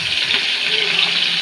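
Cumin seeds hit hot oil for a poha tempering in a home kitchen, producing a brief, even, bright hiss of sizzling that holds steady and close throughout.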